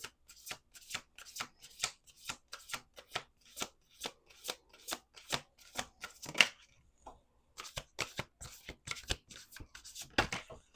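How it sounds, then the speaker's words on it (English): A deck of oracle cards is shuffled by hand in close, crisp bursts of riffling and sliding, repeated rhythmically with short pauses between shuffles, quiet and near. "We're going to do 2 more shuffles."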